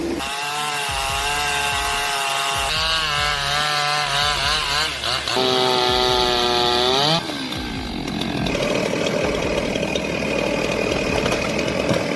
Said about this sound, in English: until the operator decides to cut the log in half